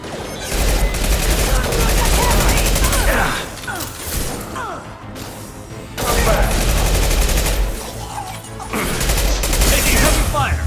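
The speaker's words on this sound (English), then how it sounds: "Taking heavy fire!" Heavy automatic gunfire in Mass Effect 2 combat, loud sustained bursts of rapid shots with a brief lull in the middle before the firing resumes just as intensely.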